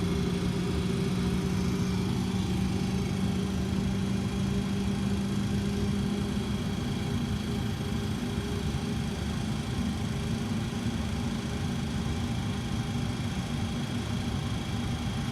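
Simulated jet engine start in a home-built 737-style cockpit, a faint steady hum and whine with a low tone that drops out partway as the starter cuts out, then an even drone alone.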